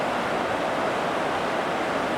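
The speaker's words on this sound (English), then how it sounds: "There's the main river. South Fork of the San Joaquin River." The South Fork of the San Joaquin River flowing, a loud, constant broadband rush of water with no breaks or talking, steady from start to finish.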